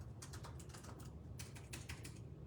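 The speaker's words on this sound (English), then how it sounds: "So I'm just typing this in." Fingers tap quickly on a computer keyboard, a close, quiet run of clicky keystrokes in short irregular bursts over a low room hum.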